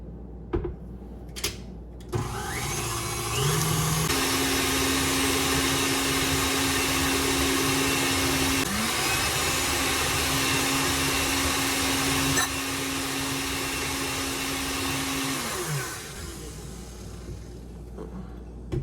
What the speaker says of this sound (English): we're going to put in our egg white from the egg we did earlier into our big mixer bowl, and then we're going to beat this until we get some beautiful stiff peaks